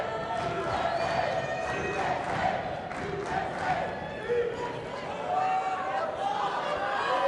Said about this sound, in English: The crowd doing their usual celebrations.